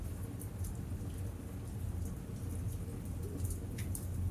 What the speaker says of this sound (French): La pluie, qui tombe depuis tout à l'heure, commence à s'intensifier.